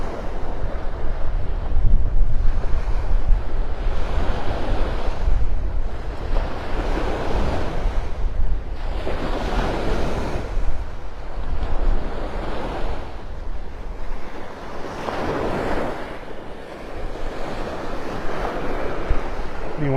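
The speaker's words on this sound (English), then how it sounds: "Boy, it is windy." Strong wind and rolling surf on a Gulf beach at Delnor-Wiggins in North Naples, Florida, with waves washing in at a steady rhythm under constant wind buffeting the microphone.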